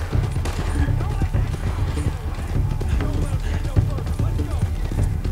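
Horses galloping in the video game Red Dead Redemption 2, rapid overlapping hoofbeats pounding steadily and close, with game action sounds and a person talking over them.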